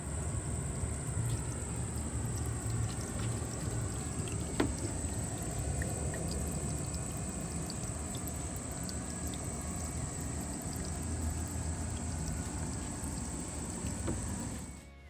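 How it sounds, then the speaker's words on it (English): Water trickles and splashes over rocks in a homemade upcycled tabletop fountain, a steady close babbling flow with a faint high whine running underneath, continuous and unbroken throughout. "so the flow of the water, I can adjust it to higher or lower, and adjust the rocks as well to kind of adjust the sound"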